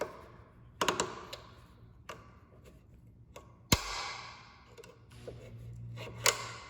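A rear hatch lift support strut is pried off a GMC Yukon tailgate, giving quiet scattered clicks and taps with one sharp snapping pop midway, and no talking.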